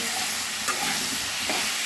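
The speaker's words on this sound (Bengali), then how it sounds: "এই যে আলু কুটোটা ভেজে নিচ্ছে" Pieces of potato and papaya fry in oil in a pan, a steady close-up sizzle with a couple of soft stirring scrapes, no voices.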